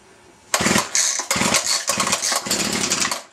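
A gas weed eater's small two-stroke engine sputters to life after a quiet moment, coughing in several bursts before catching into a loud, buzzing run close to the listener.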